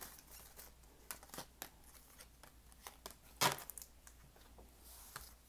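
Tarot cards being shuffled and drawn, a run of quick papery flicks and taps at an irregular rhythm, with one louder snap near the middle, close and fairly quiet, with no voices.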